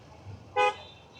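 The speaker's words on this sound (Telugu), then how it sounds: "ఎందుకన్నా అన్నిసార్లు హార్న్?" A car horn gives one short, loud toot in night traffic in Vijayawada, standing out sharply above a low, steady road hum.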